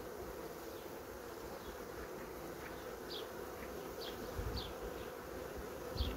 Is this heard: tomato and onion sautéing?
no